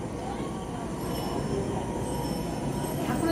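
A train rumbles continuously at a moderate distance, with a low steady roar and a faint squeal near the end, and voices are faint underneath.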